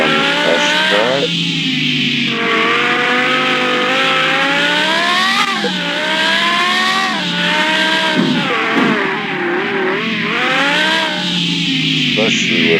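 A Lamborghini Huracan in Car Mechanic Simulator 2021 laps a test track, its engine wailing up and down through the gears with tire squeal in the corners, loud and continuous throughout.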